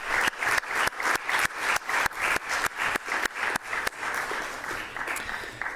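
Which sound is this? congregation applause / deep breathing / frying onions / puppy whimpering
congregation applause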